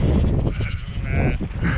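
Sheep bleat in open countryside in the Peak District, several loud nearby bleats overlapping against wind noise.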